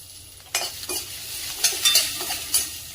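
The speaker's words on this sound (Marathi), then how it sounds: "त्यामध्ये आता आपण सर्व भाज्या परतून घेणार आहोत" Vegetables and french beans being sautéed in a little oil in a pan, with a soft steady sizzle and several scraping stir strokes of a spoon against the pan at irregular intervals, close and moderately loud, with no talking.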